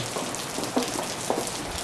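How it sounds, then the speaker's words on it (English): Steady rain from Hurricane Ivan patters on a surface in Waleska, Georgia, a dense even hiss with a few louder drips standing out, close by and without any voices. "Still raining."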